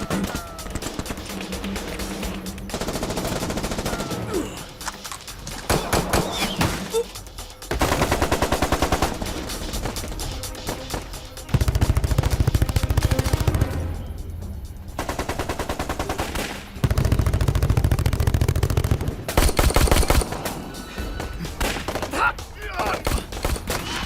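Rapid bursts of automatic gunfire rattle through a bank heist shootout in an action film, loud clusters of shots starting and stopping repeatedly, with thuds and voices heard between them.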